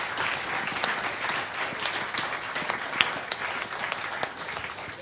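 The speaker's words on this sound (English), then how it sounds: "please give them a big round of applause" An audience at a journalism event gives the organisers a steady, full round of applause, many hands clapping in a dense continuous wash with no voices.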